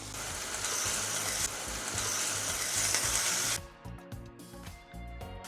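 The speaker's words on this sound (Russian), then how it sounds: "Лук обжариваю до красивого золотистого цвета." Onion frying in a pan in a mix of vegetable oil and butter, a steady close sizzle that drops abruptly to a quieter crackle with faint stirring clatter, and no one talking.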